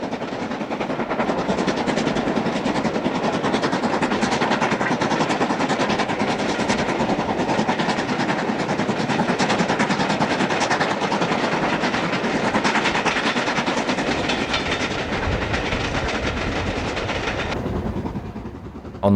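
An LMS Stanier Class 5 4-6-0 Black 5 steam locomotive runs past at Settle, a loud, sustained rush of rumbling wheels and clattering train noise that holds steady before cutting off abruptly near the end.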